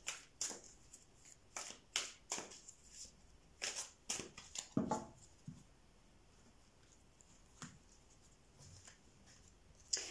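Tarot cards being drawn and shuffled, giving a run of quick papery riffles and slaps close by in the first half, then sparse soft card handling in a quiet room.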